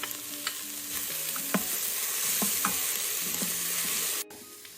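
Chopped garlic frying with softened carrots, celery and onions in olive oil in a pot for Bolognese sauce, with a steady close sizzle and occasional stirring scrapes, ending abruptly, no talking.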